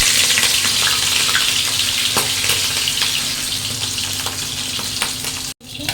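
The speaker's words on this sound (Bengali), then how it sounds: "এবার মাছটা ভেজে নেবো।" Rohu fish, pre-rubbed with salt and turmeric, frying in hot oil in a kadai, a loud steady sizzle with faint clinks, cutting out briefly near the end.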